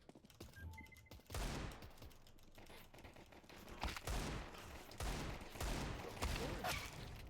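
Rapid bursts of video game gunfire crack out in several loud volleys across the stretch, with short pauses between them and faint clicking in the early part.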